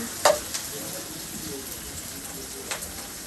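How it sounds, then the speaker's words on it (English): Garlic sizzles in a hot pan for Guyanese-style chow mein, a steady close frying hiss with a couple of brief stirring clacks. "So we're gonna put some garlic in there."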